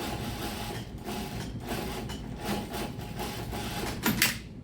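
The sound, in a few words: sewing machine edge stitching a shirt seam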